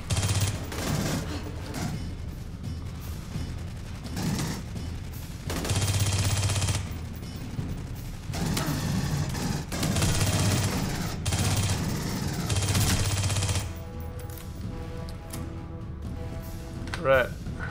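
Auto turret in Aliens: Colonial Marines firing repeated loud bursts of rapid gunfire, several bursts separated by brief pauses, with someone talking over the shooting.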